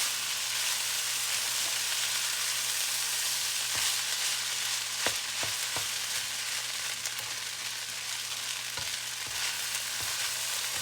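Shrimp fried rice sizzles steadily as it is stir-fried in a hot pan, a dense continuous frying hiss with occasional scrapes and clicks of the utensil, close and alone without talk.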